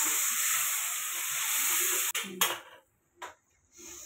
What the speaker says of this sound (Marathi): आता यात पालक टाकून घेणार आहे. पालक पण परतून घेणार आहे मी.